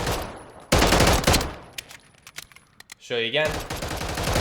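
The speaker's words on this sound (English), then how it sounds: "So I can fire this thing full auto pretty much just by tap fire." A CAA RONI G-1 carbine-converted pistol fires .45 ACP in Call of Duty Modern Warfare III, loud rapid tap-fire bursts close up, with a brief spoken remark between the volleys.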